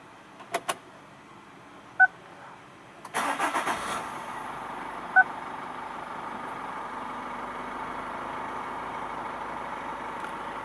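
A 2013 Chevrolet Captiva 2.2 VCDi diesel engine cranks and catches with a short burst, then settles into a low steady idle; a couple of faint clicks come before it, no talking.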